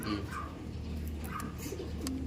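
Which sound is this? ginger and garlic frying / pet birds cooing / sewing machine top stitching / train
pet birds cooing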